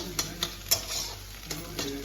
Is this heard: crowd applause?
no